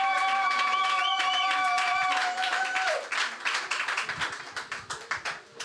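A church congregation claps and cheers for Jesus, rhythmic applause rising under a sustained musical tone that fades, leaving loud, uneven clapping that tapers off.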